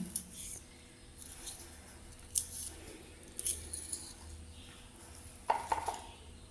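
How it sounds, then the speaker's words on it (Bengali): Pumpkin greens being cut by hand, leaves first and then stems, with a series of close, crisp snips and clicks spaced irregularly over soft kitchen background noise. "আগে পাতা নিয়ে তারপর ডাঁটাগুলো কাটবো।"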